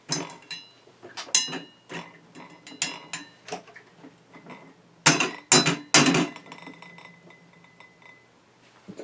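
Glass jar of almond nut milk being shaken, producing sharp, irregular clinks and knocks in separate bursts, louder near the middle, with quiet gaps between.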